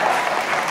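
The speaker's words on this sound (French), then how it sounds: "Marion, merci beaucoup, on peut l'applaudir" A live concert audience applauds for Marion, a short dense burst of clapping from a crowd that holds steady and loud the whole time.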